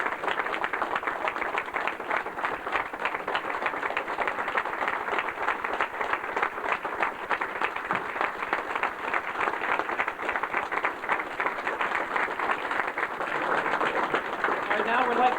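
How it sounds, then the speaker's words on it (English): A luncheon crowd at a tribute gathering applauds in a long, steady wash of clapping that holds evenly throughout and swells slightly near the end. "Let's have a big round of applause for Buddy."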